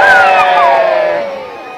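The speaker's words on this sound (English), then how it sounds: "let's have a practice after three, big cheer, fingers high, and really loud" A big crowd of spectators at a castle archery show lets out a loud, sustained cheer on cue, rising at once and fading slightly over nearly two seconds.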